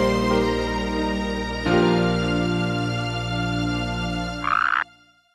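A toad croaks in a long, loud, buzzing drone that holds steady, then jumps in pitch, ending with a brief higher rasp before cutting off.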